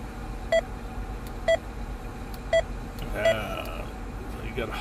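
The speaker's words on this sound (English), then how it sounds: "I like to turn that off so now it does not beep every time you hit a button" Short electronic beeps from an Anytone Quad 6 handheld radio as its buttons are pressed, four evenly spaced tones over a low background hiss, with a brief burst of speech near the end.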